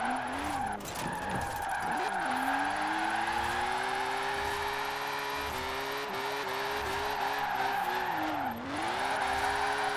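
Car drifting in Forza Horizon 4, sliding the rear end on the handbrake with extra rear camber and toe, tires squealing continuously over a steady engine drone, with pitch dips and rises as the slide changes.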